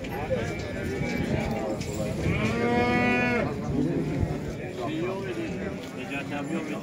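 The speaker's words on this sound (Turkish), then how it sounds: "burada iki tane dana var. İki tane de inek var." Cows and calves mooing at a cattle market in Yıldızeli, Turkey. One long, loud moo rises out of the middle of the clip over a busy background of voices and animal movement, and shorter lowing calls follow.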